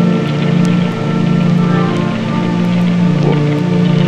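Steady rain falls as a loud, continuous hiss with a constant, dense wash and a few faint drips, no voices present.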